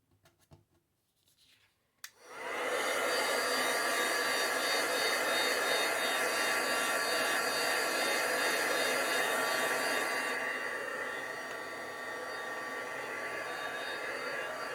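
A heat tool dries a freshly stamped paper tag, starting after about two seconds of near silence with a loud, steady blowing whoosh that holds close and constant, easing slightly toward the end.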